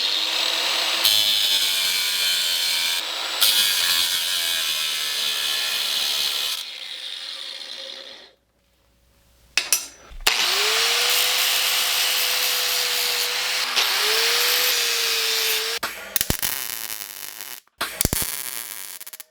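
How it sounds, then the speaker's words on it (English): An angle grinder cuts through tack welds on a custom coilover mount, a loud continuous abrasive grinding that runs for several seconds, drops out briefly, then returns with rising whine as the disc spins up and bites again. "Cut these tack welds."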